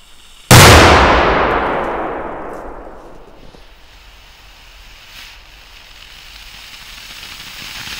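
A single loud Doom Boom 50 firecracker blast with a sharp onset, followed by a long reverberant echo that rolls away and fades over several seconds.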